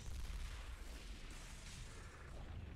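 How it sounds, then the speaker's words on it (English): Cannon fire in the video game Super Mario Galaxy, a loud continuous booming rumble with dense low-end blasts, sustained across the whole moment with no talk over it. "Fire the cannon!"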